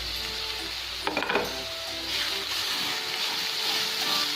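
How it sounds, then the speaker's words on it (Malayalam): A banana stem cutlet mixture is stirred in a pan over a medium flame, giving soft scraping and faint sizzling with a few light clinks of the spoon, steady and close. "നമുക്കൊന്ന് ഇളക്കി നോക്കാം."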